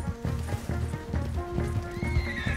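A horse in Red Dead Redemption 2 whinnies loudly over the steady clip-clop of its hooves, all close and continuous under a layer of game music.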